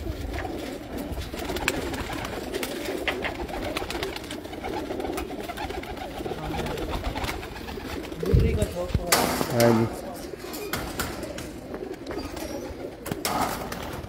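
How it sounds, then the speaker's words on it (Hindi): Pigeons coo steadily around a home loft kept by a Pakistani pigeon fancier, with bursts of wing flapping and a man's brief spoken reply mixed in. "कबूतर सारे हमारे घर के हैं।"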